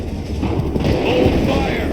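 Musket volleys crack out in Assassin's Creed III, a series of heavy, close gunfire bursts over a battlefield din, with shouted orders mixed in.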